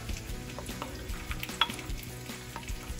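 Onions hit a hot griddle for burgers and crackle softly, with scattered clicks and scrapes from a wooden spoon pushing them around. The sizzle stays fairly quiet and close, and nobody speaks.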